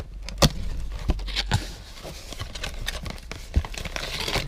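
Soft crinkling and tearing of a thin paper packet of quinoa tea bags, with a few sharp rustles and taps close by.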